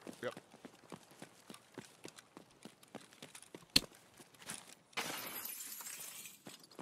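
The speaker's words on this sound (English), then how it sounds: "That's me breaking glass." Glass shatters sharply in a shooter game, a single bright crash followed by a burst of tinkling debris, preceded by steady footsteps; people talk faintly over the action.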